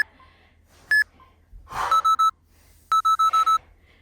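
An interval timer beeps during a kettlebell workout: one short electronic beep, then a quick run of three, and after a pause a run of four evenly spaced tones, clear and close with faint breathing between.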